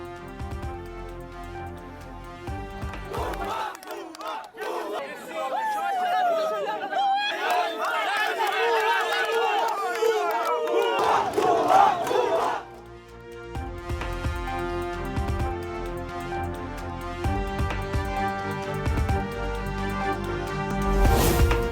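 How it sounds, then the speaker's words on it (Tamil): A large crowd at a Paris liberation celebration chatters and chants loudly, with a steady roar of voices that swells in the middle and persists throughout, mixed with some musical tones. "பாரிஸில் விடுதலை கொண்டாட்டத்தில் ஈடுபட்ட பொதுமக்கள் சுதந்திரமாக இருப்பதாக முழக்கமிட்டும் கொடியை கைகளில் ஏந்தியும் ஆரவாரம்"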